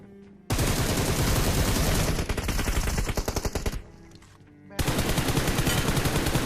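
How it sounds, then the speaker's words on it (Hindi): Loud, rapid automatic gunfire from the PUBG Mobile battle royale game rattles in long bursts, breaks off briefly, then resumes at full force. "घर पे यहाँ से फायर हो रहा था"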